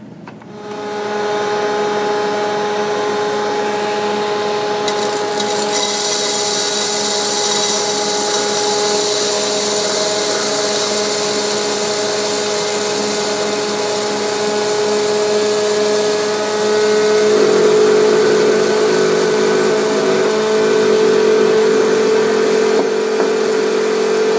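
A hot-air popcorn popper warming up empty before roasting coffee beans gives a steady, loud, continuous whirring fan-and-motor drone that shifts slightly in tone partway through, with no voices.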